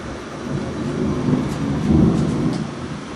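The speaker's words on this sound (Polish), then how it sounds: "tyłu jest burza na wschodzie też" Thunder from a storm over Łowicz rolls as a deep, continuous rumble that swells twice, strongest in the middle, heard fairly close with wind-like background hiss and no talk.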